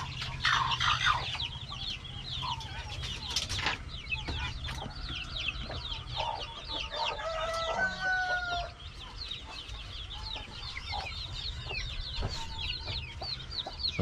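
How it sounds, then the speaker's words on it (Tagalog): Newly hatched chicks peeping continuously in a busy chorus, with adult chickens clucking nearby in a farm setting. "So ayan mga bagong sisiw natin."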